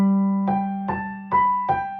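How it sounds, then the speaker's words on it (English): A piano plays Bach's Minuet in G with a legato right-hand melody over a detached left hand, four separate struck notes at a moderate, even pace, each ringing over a sustained low tone, close and clear. "So smooth right hand for all 4 bars would sound like this."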